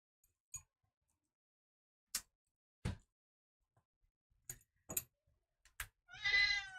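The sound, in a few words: cat meowing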